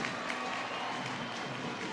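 A sellout stadium crowd at a women's Super League football match between Manchester City and Manchester United keeps up a steady, distant roar with scattered clapping. The wash of noise stays faint and continuous throughout.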